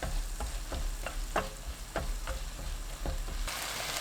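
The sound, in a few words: stir-frying green chili peppers in a pan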